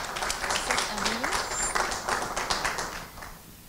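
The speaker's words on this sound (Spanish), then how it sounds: "Con un aplauso" An audience at a medical round-table gives a doctor a round of applause, soft scattered clapping heard at a distance with voices murmuring over it as it fades.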